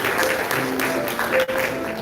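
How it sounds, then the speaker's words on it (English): Audience applause at a church celebration honoring Fred Gray's Medal of Freedom, a dense, steady round of clapping filling the room, close and loud, with a brief dip near the end. "Give him another round of applause."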